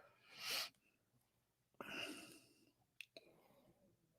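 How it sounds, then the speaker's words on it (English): A small 17-pound Tibetan Spaniel sleeps in a corner and snores, giving two long, breathy, raspy snores with a short snort between them, faint and close in an otherwise quiet room. "My little 17-pound dog is over here in the corner, asleep, snoring like crazy"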